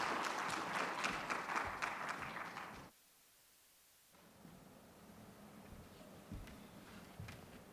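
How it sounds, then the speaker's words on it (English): An audience claps for a conference plenary panel, a steady dense patter that cuts off abruptly after about three seconds, followed by quiet room noise with a few faint thumps. "So please, a round of applause for our panel."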